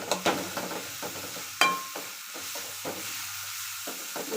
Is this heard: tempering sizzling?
yes